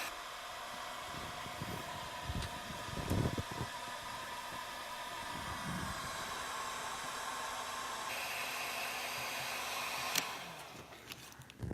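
A heat gun blows a steady, broadband airy roar while black and gray heat shrink tubing is shrunk over wiring for motorcycle LED underglow lights, with faint handling taps and a brief bump near the end.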